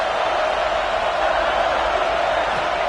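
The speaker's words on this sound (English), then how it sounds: "This crowd is trying to inspire this defense to make a big red zone stop." Stadium crowd at a football game roaring steadily during a red zone defensive stand, a loud, dense wall of noise that holds level throughout with no distinct voices rising above it.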